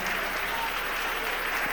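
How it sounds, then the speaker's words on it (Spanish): Applause from a church congregation at an evening service fills the space, a thick, even wash of many hands clapping at once, loud and unbroken. "Dele ese aplauso al Señor en esta noche."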